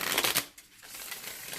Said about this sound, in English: oh, it shuffles beautifully.